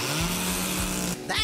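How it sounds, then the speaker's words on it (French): Chainsaw engine drones steadily and loudly with a harsh buzzing tone, its pitch sweeping briefly now and then before cutting out near the end, then resuming. "Trouve du bois et une tronçonneuse"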